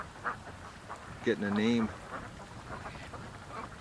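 An injured, crippled duck gives a short burst of loud, nasal quacks in the middle, while someone talks before and after it outdoors.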